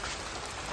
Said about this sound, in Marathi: आणि आता पाऊस पण जोरात लागते।